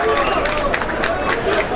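A stadium crowd at İsmetpaşa Stadium, during the Kocaelispor versus Gebzespor football match, roars and claps as a substituted player leaves the pitch, a broad, continuous wash of noise under a commentator's voice.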